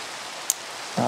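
Rain hisses steadily in the video game Minecraft as a soft, even wash of noise, with a brief tick midway and a louder burst of sound entering near the end.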